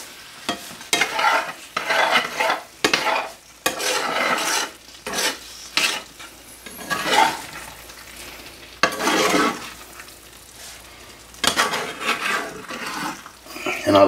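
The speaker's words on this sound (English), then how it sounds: "That's all I cook out of when I'm frying or doing these." Deer meat frying in a cast iron pan while being stirred, with repeated scraping and rasping strokes over a steady sizzle, close and fairly loud, coming in uneven bursts.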